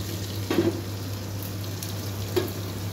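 Pointed gourd pieces frying in oil in a pan for a potato and gourd curry, a soft continuous sizzle with a couple of brief louder pops, steady low hum underneath, no talking.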